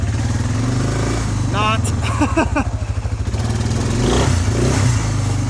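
Suzuki QuadRunner or KingQuad 500 ATV engine cranking and catching, then idling with a throaty rhythmic putter and a short rev, close and loud, with someone talking over it.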